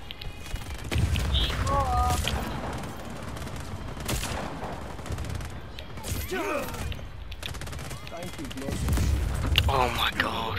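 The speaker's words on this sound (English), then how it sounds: "Do you mind stop shooting me for a second?" Gunfire in the video game Just Cause 4, a dense run of shots and thuds mixed with game noise and voice-like sounds, loud and continuous throughout.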